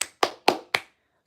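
Four sharp hand claps spaced evenly about a quarter second apart, close and crisp, each decaying quickly, followed by silence; no voices.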